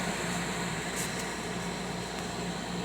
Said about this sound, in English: if you hear like an air conditioner in the background